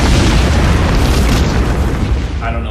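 A missile explosion fills the air with a loud, sustained boom and rumbling roar lasting the whole moment, easing only slightly at the end as a voice shouts in the chaos.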